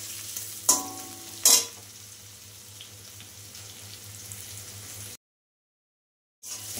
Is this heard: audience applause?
no